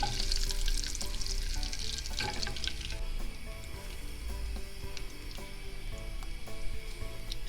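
Butter melting and sizzling in olive oil in a pan, a steady close crackling fry with faint wet popping throughout, no voices.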